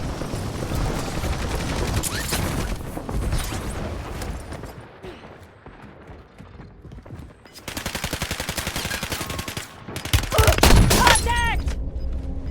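Rapid automatic gunfire from an MPC-25 in Warzone on the Heaven's Hollow map, heard as dense, close bursts of shots that fade, then return loud, with in-game voice callouts over the firing.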